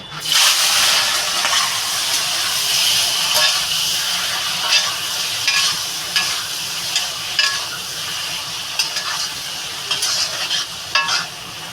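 Loud, continuous sizzling of shrimp frying in hot oil, with repeated sharp stirring and scraping clicks throughout.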